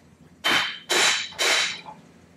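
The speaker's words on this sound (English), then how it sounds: "a good persuader, you hit it a couple times all the way around," Hammer striking a Nissan wheel hub to knock it loose, three loud sharp metallic blows spaced about half a second apart, close by with no talk.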